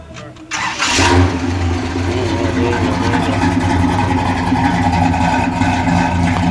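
A 1967 Pontiac GTO engine cranks briefly and catches, then settles into a loud, steady, rumbling idle up close.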